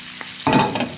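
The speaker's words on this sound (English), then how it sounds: "Caramelizing butter, wow." Butter sizzles and caramelizes in a pan for a lemon butter sauce served with fish, breaking from a brief quiet into a sudden loud, steady crackling hiss that continues close up.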